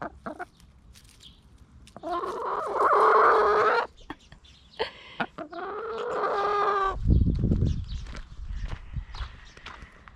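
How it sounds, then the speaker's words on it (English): A pet chicken clucks in a short burst of harmonic calls, then again after a pause, fairly close and clear, with thumps and handling noise around it and a low rumble near the end. "She is our resident chicken."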